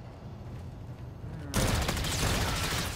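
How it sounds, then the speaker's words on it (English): Burst rifle gunfire in Call of Duty: Infinite Warfare, during a Domination match on the Grounded map. A quieter stretch gives way halfway through to loud, dense, rapid bursts of shots that continue to the end. "this is a burst rifle"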